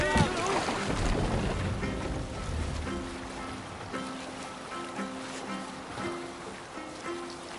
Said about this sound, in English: Need to row our way out.